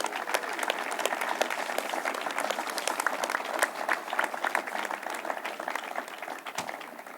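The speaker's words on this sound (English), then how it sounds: "Please give them all a round of applause" An outdoor audience at a World University Games announcement in Lake Placid breaks into sustained applause, a dense, even rattle of many clapping hands that holds steady throughout.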